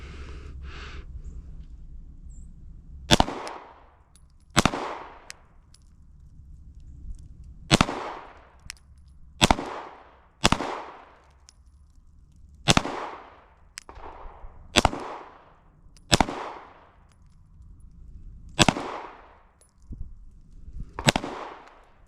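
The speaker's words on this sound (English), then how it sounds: "shooting 9mm is really easy" Glock 48 MOS 9mm pistol shots fired at a target, about a dozen sharp loud reports spaced a second or two apart, each with a brief echoing tail, outdoors.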